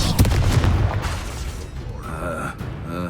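A Confringo blasting spell in Hogwarts Legacy fires off as a single booming burst near the start, then decays into rumbling debris and game ambience.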